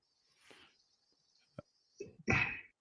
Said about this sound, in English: now he's got me sneezing